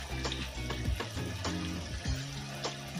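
Chicken pieces frying in oil for crispy fried chicken, a soft continuous sizzle with bubbling and occasional sharper crackles, moderately close and steady.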